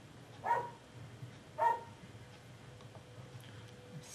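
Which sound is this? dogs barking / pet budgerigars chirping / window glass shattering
dogs barking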